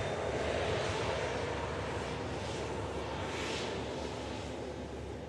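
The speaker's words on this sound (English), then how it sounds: "Next arrivals are Ryanair from Dublin." Ryanair airliner arriving from Dublin at Manchester Airport, a steady broad engine roar that holds evenly throughout, moderately loud with a slight fade toward the end, no voices.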